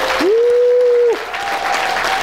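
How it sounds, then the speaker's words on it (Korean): Lecture audience at a Korean economics-outlook talk bursts into loud, dense applause and cheering that fills the hall, then eases to a steadier clapping under a faint tone, with no speech. "박수 함성 크게 한번 부탁드립니다."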